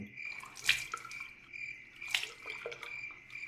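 A man washes his face and hands, and water splashes in two distinct bursts with soft drips between them, set against a quiet night backdrop of faint crickets or frogs.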